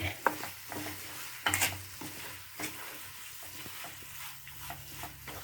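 Sugar is stirred by spoon into homemade lemon pickle, with soft scraping and a few sharper clinks against the pot over a quiet background. There is no speech.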